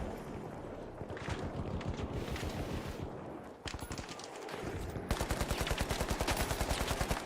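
Video game gunfire rattles close and loud, first in scattered bursts and then in a fast, steady automatic stream of evenly spaced shots over a noisy background.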